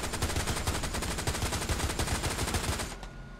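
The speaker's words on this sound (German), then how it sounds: "Schieß über sie drüber. Gib Feuerschutz." Sustained rapid machine-gun fire rattles close and loud in a World War II battle in Hell Let Loose, a dense unbroken burst that cuts off abruptly near the end.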